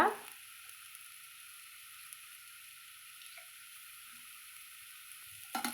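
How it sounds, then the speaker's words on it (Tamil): Boiled tapioca pieces fry in a pan, giving off a steady, faint, even sizzling hiss throughout with no voices, and a brief stirring clatter at the start and end. "நல்லா கிழங்கு சூடாகும்படி வறுத்து விட்டுட்டு"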